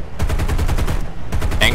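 B-17 bomber gunners fire machine guns in War Thunder, a loud, continuous rattling burst of rapid shots that stops briefly, then resumes near and dense.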